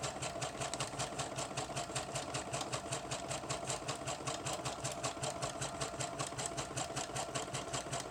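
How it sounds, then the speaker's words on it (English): A sewing machine stitches through packing paper to form a pocket in a handmade journal, a fast, steady, close-up mechanical chatter running evenly and without pause. "So I'm going to sew it right through."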